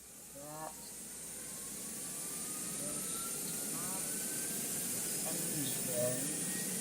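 Simulated aircraft engines start up in the GeoFS flight simulator game, a faint hiss and thin whine that build steadily over several seconds while someone speaks briefly over them.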